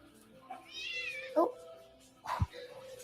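A cat meows from an animal clip playing in the background, with a couple of short mews heard under a nearby voice and other room noise.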